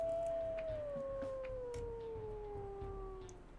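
A wolf pup's howl in the video game WolfQuest: a single long, clear, slowly falling howl held for about three seconds over a faint background hum.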